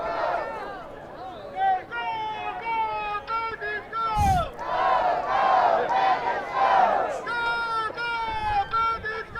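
A baseball crowd at a Brisbane Bandits home game against the Auckland Tuatara cheers and chants in loud, swelling bursts, led through a small megaphone, while commentators talk over it.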